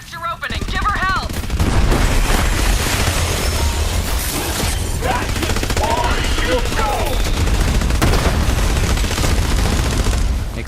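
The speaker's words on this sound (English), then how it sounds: "Explosions are really helping me out with this." Borderlands 3 gameplay fills the mix with rapid machine-gun fire and bursts of explosions, loud and nearly continuous for about ten seconds, with game voices and effects layered underneath.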